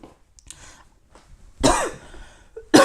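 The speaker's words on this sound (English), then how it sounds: "Sorry, the cough again." Two harsh, loud coughs close to the mic, separated by a short pause, after a few seconds of near silence.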